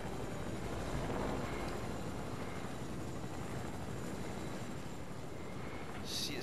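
A steady, droning helicopter rotor in the video game Fortnite Zero Build hums continuously at moderate distance, with no voices present.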